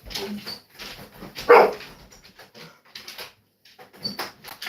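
A dog gives one loud, sharp bark close by, set among quieter shuffling and small muffled noises that come and go.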